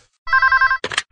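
A telephone rings with a steady electronic trill lasting about half a second, loud and close, followed by a brief burst of noisy sound; no speech.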